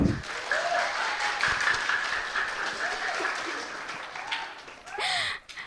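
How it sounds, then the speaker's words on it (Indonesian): An audience at a university drama performance claps in steady, sustained applause, with some voices and crowd noise mixed in, swelling briefly near the end. "Bisa minta tepuk tangannya?"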